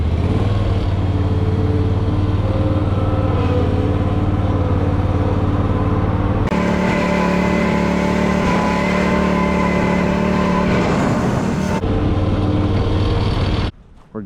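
A Kubota zero-turn mower engine runs loud and steady close by, its pitch stepping up as it is throttled from idle, then cutting off abruptly near the end.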